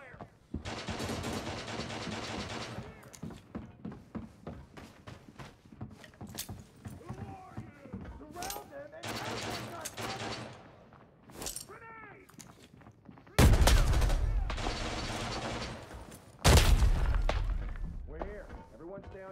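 Gunfire in the video game Arena Breakout, with sustained bursts of automatic fire in several long volleys, separated by stretches of radio-style voice chatter, with the loudest bursts coming near the end.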